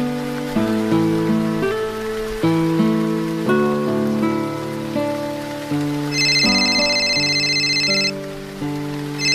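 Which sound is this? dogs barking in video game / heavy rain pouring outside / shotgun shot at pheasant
heavy rain pouring outside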